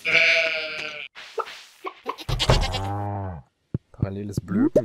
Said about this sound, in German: Paralleles Blöken, das war lustig eben gerade.